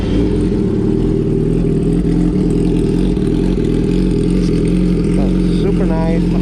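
A motorcycle fitted with an aftermarket eBay exhaust idles loud and close, a steady low engine rumble throughout, with a voice speaking over it.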